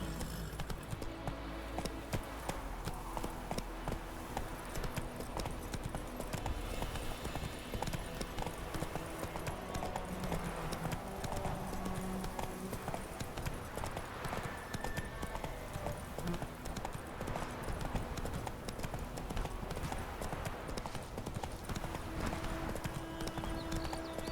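Horse galloping in The Witcher 3, a steady rapid clip-clop of hooves running throughout over a busy backdrop of game music and ambience, with a brief whinny.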